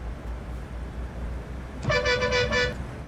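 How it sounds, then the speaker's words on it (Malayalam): A low engine hum runs throughout Euro Truck Simulator 2, then a loud, brassy truck air horn blasts once for under a second near the end. "അയ്യോ എയർ ഹോണാണല്ലോ"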